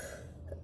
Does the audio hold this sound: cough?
yes